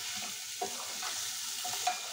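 Chopped potato with spices frying in a pan for murighonto: a soft, fairly faint sizzle with a few light scrapes and clicks of stirring over a short stretch.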